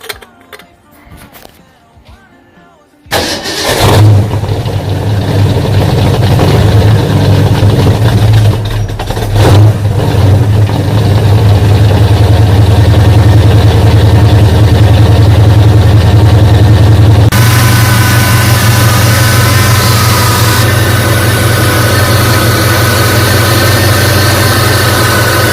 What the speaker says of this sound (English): As you can probably hear there, the pump is a little noisy, so this is the reason for the change.